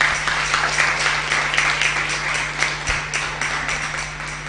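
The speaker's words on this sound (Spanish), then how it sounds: "Un aplauso para él." Steady applause from a congregation during a Mass, a few seconds of close, even clapping over a low hum.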